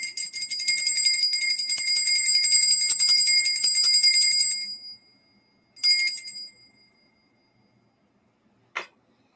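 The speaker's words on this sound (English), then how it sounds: "I can't even ring the bell right." A bell rung in a long continuous ringing burst, then a short second ring after a gap and one brief final ding, loud and close with no talking.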